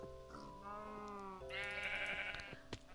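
Sheep bleat in a Minecraft modpack, two drawn-out wavering calls one after the other, close and clear over a soft game background, ending with a short click.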